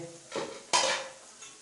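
Chicken with red chilli powder, salt and other spices is stirred in a pan for chicken ginger, with two distinct scraping strokes of a utensil over a soft sizzle and no voices.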